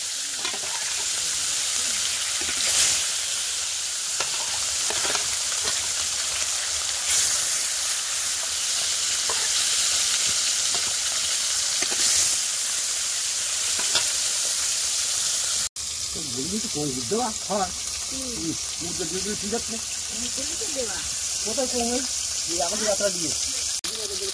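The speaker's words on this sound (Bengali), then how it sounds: "মাছগুলো কিন্তু এক পিস করে ভাজা হয়ে গেছে, ওদিকে উল্টে দিয়েছি।" Fish sizzles and fries in hot oil in a wok, a dense continuous crackle with occasional stirring clatter; a voice talks over the later part.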